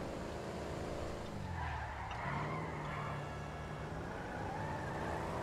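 A car skids with a long tire squeal in GTA V while its engine drones loudly underneath, one drawn-out slide that holds steady through the clip.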